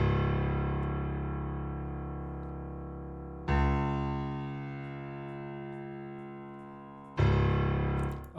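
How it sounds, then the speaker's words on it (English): Dark sustained bass loop pairing a Serum synth bass with a layered Neue Pure piano bass, low end boosted by EQ, playing three long decaying notes that restrike around 3.5 and 7.2 seconds, loud and alone with no talking. "open up Contact again and layer that Serum bass with another piano bass"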